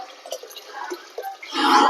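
Water poured into a cooking pot in a home kitchen: a few light drips and splashes, then a louder rushing pour near the end, close and without talk.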